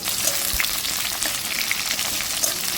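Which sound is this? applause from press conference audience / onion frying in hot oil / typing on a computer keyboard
onion frying in hot oil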